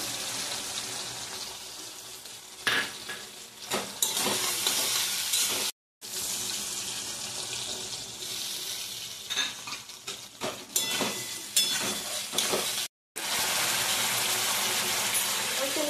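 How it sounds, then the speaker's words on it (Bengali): Soy sauce going into a pan of sizzling chilli paneer with green chillies, giving a steady loud frying hiss with brief stirring scrapes and two short breaks in the sound. "এই সয়া সসটা দিয়ে দিচ্ছি। সয়া সসটা দিয়ে দেবো"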